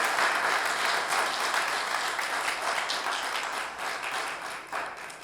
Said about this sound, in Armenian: ձեր ծափահարությունների ներքո